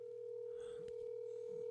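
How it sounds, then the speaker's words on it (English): A phone call is being placed: a steady tone sounds throughout, faint and continuous, with brief dialing blips partway through. "Y'all hear the phone ringing?"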